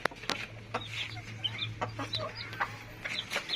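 Japanese bantam chickens cluck in a scattered series of short calls, fairly close, over a steady low mechanical hum.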